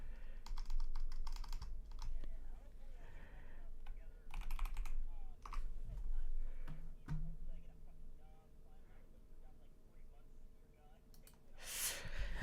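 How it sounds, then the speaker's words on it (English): Bursts of computer keyboard typing, clicks clustered in quick runs separated by pauses, sit fairly close, with occasional quiet speech and a sharp noise at the end. "If you hear me typing, it's because I'm setting something up."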